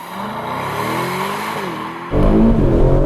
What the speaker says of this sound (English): Now let's find out just how quick this car really is.